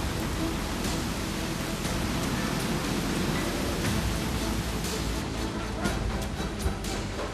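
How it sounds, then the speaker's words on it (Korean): Steady rain falls on a rooftop garden construction site atop a ten-story building, a dense, even hiss of drops with no break and no voices. "다음 날 잔뜩 흐리던 먹구름이 결국 비를 뿌리기 시작했다"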